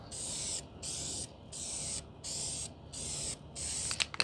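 A spray paint rattle can sprays a 1998 Jeep Grand Cherokee ZJ in a back yard, with six close, hissing bursts in an even rhythm separated by brief pauses.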